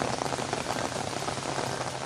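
Steady morning rain falling in Chittagong, a dense, even patter of drops on surfaces that holds constant throughout with no voices.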